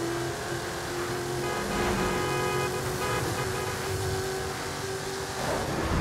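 A car speeds along in Grand Theft Auto Online, its engine droning steadily at high revs with a tonal whine and road roar, moderately loud and continuous without talk.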